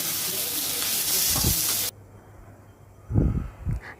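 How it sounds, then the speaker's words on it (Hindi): Chopped green chilli and capsicum frying in a pan give a steady loud sizzle for about two seconds, then quieter hissing with a few stirring bumps. "मैंने इसमें बारीक कटी हुई हरी मिर्च एंड शिमला मिर्च तीनों को अच्छे से मिक्स करके इसे फ्राई कर रही हूँ।"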